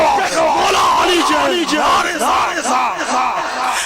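A large crowd at a religious gathering shouts a devotional slogan for Mola Ali in unison, loud repeated chanted cries with rising and falling voices blending into a single roaring call-and-response.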